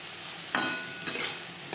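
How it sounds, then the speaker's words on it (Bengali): Eggplant frying in a little oil in a pan, with three short scraping stirs breaking through a quiet background sizzle. "যেহেতু আমি কম তেলে বেগুন ভাজা তৈরি করছি"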